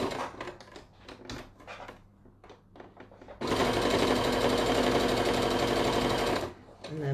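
A sewing machine stitches a fabric handwarmer in one steady, loud burst of several seconds, with someone talking before it and briefly after it stops.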